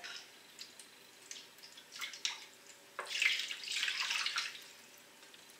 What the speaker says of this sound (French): sur le plat de four, je mets déjà un petit peu de l'eau tiède